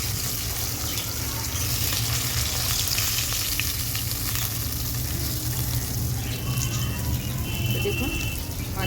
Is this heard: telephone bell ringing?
no